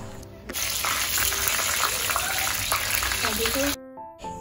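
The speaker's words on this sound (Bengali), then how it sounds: "কড়াইতে তেল দেওয়া হয়ে গেছে, প্রথমেই হবে পটল ভাজা।" Pointed gourd (potol) coated in salt and turmeric fries in oil in a wok at a Bengali Ranna puja food festival, a loud steady sizzle with bubbling crackle. Brief tonal sounds and background noise come at the start and end.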